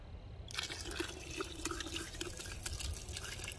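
Ditch water splashing and trickling as it is poured over mud while making clay from dirt outdoors, a steady close gurgling stream with scattered drips running throughout.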